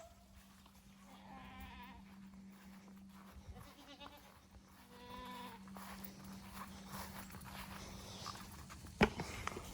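Goats on a farm pasture being led toward their feed bleat several times at moderate distance over a steady low hum, with a sharp knock near the end.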